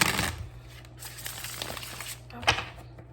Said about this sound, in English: One more quick shuffle.